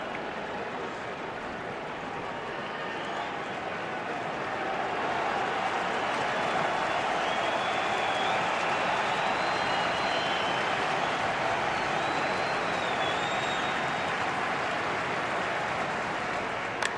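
A baseball stadium crowd at a Red Sox–Yankees wild card playoff game roars and applauds in a steady, distant wash, swelling after a few seconds and holding there.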